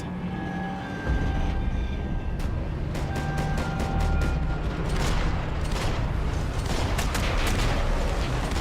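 Max Payne 3 shootout in which a rapid string of sharp gunshots cracks out over a loud rumbling, droning background, with the shots clustering toward the end after a quieter opening.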